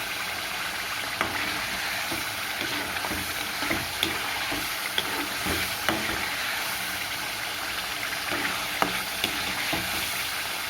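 Puliyodharai tamarind mixture stirred in hot oil in a pan, a steady close sizzle broken by regular scraping strokes of the spoon throughout.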